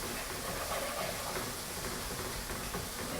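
Eggs sizzling in a hot pan as they are scrambled into cauliflower fried rice, a steady loud hiss that carries on without a break.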